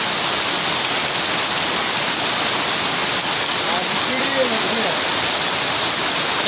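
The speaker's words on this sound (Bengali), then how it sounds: "দেখুন এরে বলে অরিজিনাল বৃষ্টি। দেখুন বৃষ্টির গতিটা দেখুন।" Heavy torrential downpour during flooding, a dense, constant roar of rain hammering surfaces, loud and unbroken throughout with no clear voices.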